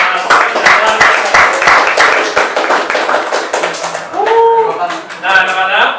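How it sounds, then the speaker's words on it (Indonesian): A classroom of students claps for a group presentation, a dense burst of many hands at close range that thins out toward the end while a voice speaks over it. "kasih aplaus untuk kelompok 3"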